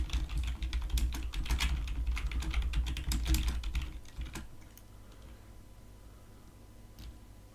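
Rapid clicking keystrokes on a computer keyboard, close and busy for about four seconds. The typing then thins to a few scattered taps over a quiet room hum.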